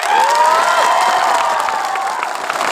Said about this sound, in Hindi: हमशो के लिए भी ताली मारो।